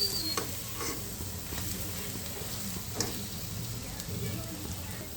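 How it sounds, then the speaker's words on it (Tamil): Masala for a prawn curry sautés in oil, a steady close sizzle broken by occasional spatula scrapes and knocks against the pan as it is stirred. "மசாலா வதங்கிடுச்சு அப்படி எண்ணெய் பிரிஞ்சிடுச்சு"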